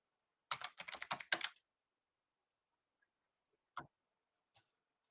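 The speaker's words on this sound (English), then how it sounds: "now can you see if I type hello?" Short burst of typing on a computer keyboard, a quick run of close clicks followed by two isolated keystrokes after a pause in an otherwise quiet room.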